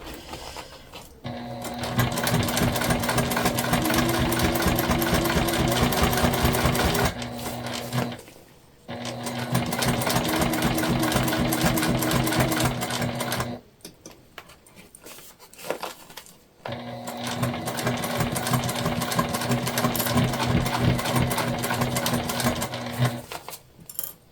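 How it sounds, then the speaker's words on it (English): A sewing machine back stitching a crossbody bag runs in three long bursts of rapid, even mechanical chatter, separated by brief pauses with small handling clicks, close and loud. "We're just back stitching"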